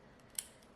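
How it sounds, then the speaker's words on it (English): One small crisp snip of scissors cutting a gel nail tip, a single faint close click in a quiet room. "I'm just going to give a little snip there and a little snip"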